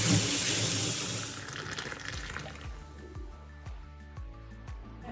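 Tap water gushes in a strong steady stream into a household sink at first, then cuts off, leaving a series of evenly spaced drips and small splashes falling close by.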